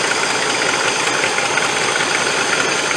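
A 1985 ex-NATO Land Rover 110 V8 idles steadily and roughly, a blowing exhaust giving hissy, uneven chuffing, close and loud, with no voices.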